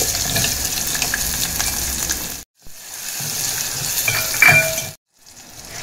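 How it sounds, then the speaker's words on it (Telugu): Mustard seeds, cumin and onion sizzle in hot oil with turmeric, a steady crackling hiss broken by two brief silent gaps and a light clink of a utensil near the end. "సో ఆయిల్ వేడయ్యాక ఆవాలు, జీలకర్ర వేసుకోవాలి. కొద్దిగా పసుపు కూడా వేసుకోవాలి. దాంట్లోకి ఆనియన్ కూడా వేసుకోవాలి."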